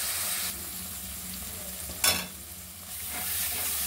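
A spice paste with coriander powder sizzles steadily in oil in a pan for a thin hilsa fish and potato curry, with one sharp stirring scrape partway through.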